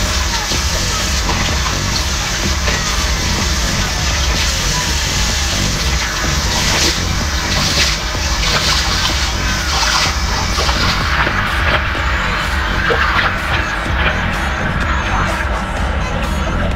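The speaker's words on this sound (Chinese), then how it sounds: "现在直接可以冲水。" Water runs and splashes steadily at close range as a face is rinsed clean after washing with cleanser, a continuous loud gush with small irregular splatters.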